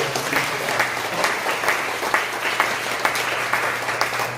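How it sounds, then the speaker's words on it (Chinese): A church congregation applauds with steady, even clapping that fills the hall, sustained at a moderate level. "所以感谢主，我们掌声来再次谢谢我们的"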